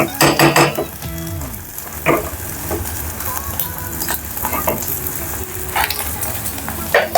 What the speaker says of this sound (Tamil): லைட்டு முட்டையை பொரிச்சாச்சு.